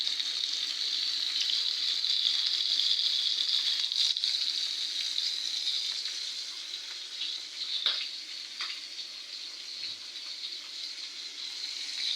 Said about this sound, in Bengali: পাঙ্গাস ভাজা হচ্ছে